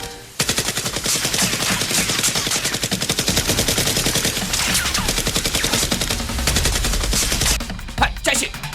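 Rapid, continuous toy gunfire from Nerf blasters in a staged battle, dense repeated shots at close range with no pauses for most of the stretch, ending in a few scattered louder hits.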